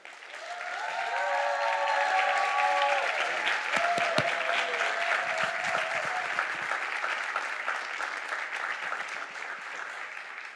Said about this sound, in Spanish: Así que ahora sí, con un fuerte aplauso